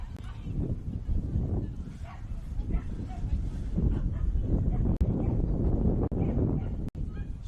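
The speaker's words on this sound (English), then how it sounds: "Dogs in the background." Dogs bark repeatedly at a distance beside a women's football pitch at a reserve, with wind buffeting the microphone and voices in the background.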